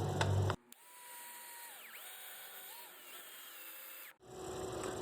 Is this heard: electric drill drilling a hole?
yes